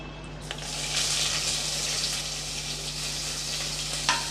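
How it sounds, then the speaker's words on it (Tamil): Two medium sliced onions sautéing in a cooker pan for tomato rice give a steady, close frying hiss with a faint low hum and an occasional soft clink, and no one speaks. "இப்போ நல்லா செவக்க வதக்கி விட்டுக்கலாம்"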